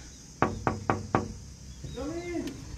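Four firm knocks on a wooden door in a traditional Balinese house, evenly spaced and close, followed by a voice calling out.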